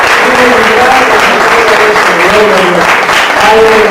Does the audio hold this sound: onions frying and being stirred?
no